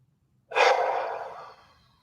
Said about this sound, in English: Just focus on the breathing.